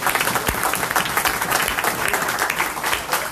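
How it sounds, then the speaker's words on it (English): Sustained applause from an audience gathered at an evening Torah learning event, a dense, steady wash of many hands clapping close by, with no voices over it. "You all deserve a round of applause."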